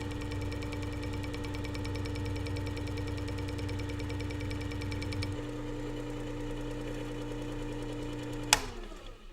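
A Worksharp WS3000 sharpener polishes the back of a chisel, its motor giving a steady mechanical drone with a rough grinding edge that shifts in tone midway, then a sharp clack near the end.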